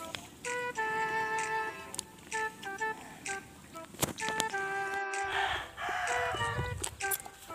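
Chickens cluck and a rooster crows repeatedly at a farm, with harmonic calls in bursts over steady background noise and a brief thump midway.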